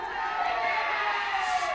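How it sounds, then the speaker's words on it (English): A crowd at a women's T20 cricket match between Bhutan and Myanmar keeps up a steady, distant roar that swells slightly as the bowler runs in, with no clear single voice on top. "The crowd is getting louder every moment Sanam runs into ball."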